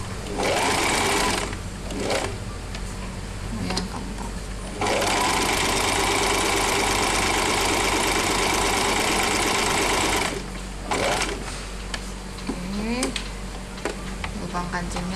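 A Singer 1408 Promise sewing machine runs in long stitching bursts with a loud, steady mechanical whir and rapid needle knocking, stopping briefly between runs, while a person talks in the gaps and over it.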